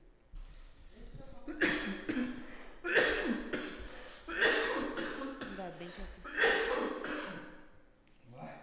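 Several rough bursts of coughing repeat at a steady pace, close and fairly loud, with muffled voices around them.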